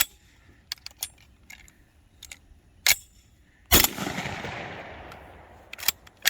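A vintage shotgun, one of several old semi-automatics such as Browning A5 copies, Savage 720 and Franchi AL48, fires a single loud close blast with a long ringing tail, surrounded by sharp metallic clicks and clacks of handling.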